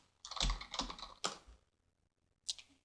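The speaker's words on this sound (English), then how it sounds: "I have to type it correctly." Keys tap on a computer keyboard in a quick flurry of close keystrokes, then a pause and a final short burst, all fairly faint.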